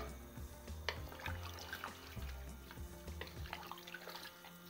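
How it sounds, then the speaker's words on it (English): Water poured into a pot of Anglo-Indian lamb stew with meat and vegetables; splashing and trickling with small drips and clinks, moderately close, no voices. "And then we're going to add the water."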